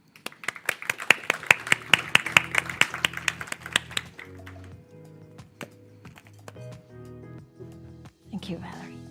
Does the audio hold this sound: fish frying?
no